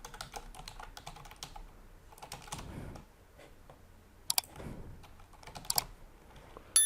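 Keys clatter on a computer keyboard while email addresses are entered, short bursts of close typing separated by pauses, with a few sharper key hits.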